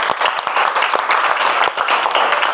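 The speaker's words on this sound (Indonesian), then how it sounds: "Beri tepuk tangan dulu untuk kita semua" A classroom of students in Indonesia claps for the student groups after their project presentations, a dense, loud, steady applause lasting a couple of seconds.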